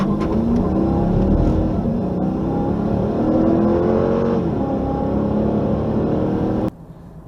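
A 2015 Dodge Charger R/T with a V8 accelerates hard, a loud, dense engine roar climbing and shifting through gears, then cutting off abruptly near the end.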